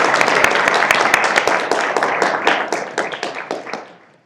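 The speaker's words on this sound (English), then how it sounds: "we can clap for all of our lovely debaters that we have" Audience members at a university student debate clap for the debaters: a close, crisp burst of applause that thins and fades out after about four seconds.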